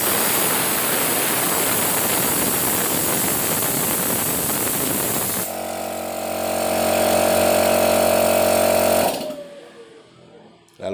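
A used air compressor's motor (dynamo) starts and runs with a steady, loud broadband whir and hum that shifts in tone partway through, then cuts off near the end, with no talking.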